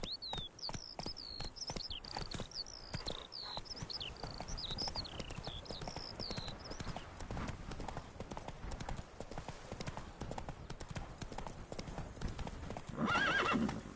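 Roach, the horse in Witcher 3, gallops with steady rapid hoofbeats throughout, a high neigh sounding early over birdsong-like chirps and a louder clatter near the end.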